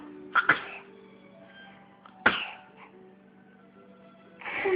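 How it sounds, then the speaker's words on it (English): A baby sneezes at home, a few sharp bursts near the start and another one midway, close and clear over a quiet room with a low hum. "We got a sneeze on camera."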